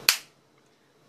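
A glass tube snaps with a single sharp glassy sound, close and loud, a quick bright crack that fades almost at once into near silence.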